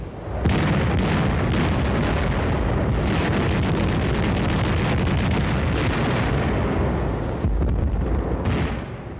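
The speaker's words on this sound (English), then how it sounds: "Anti-aircraft guns were fired point blank as anti-tank guns until they were overrun." Anti-aircraft guns fire point blank during the 1944 Battle of the Bulge, heard as a loud, dense, continuous barrage of booms and blasts with no pauses or talk, easing briefly near the end.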